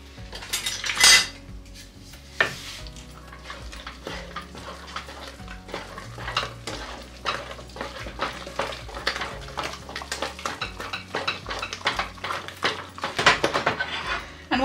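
Crème pâtissière being stirred with 50 grams of added butter in a pot, a steady run of utensil scrapes and clinks against metal with louder knocks near the start and toward the end, close and clear with no talk.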